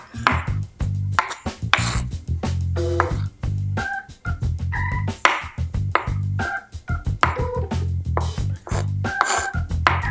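A knife chops food on a cutting board while holiday dressing is prepared in a home kitchen, rapid uneven bursts of sharp knocks with short pauses and a few dish clinks.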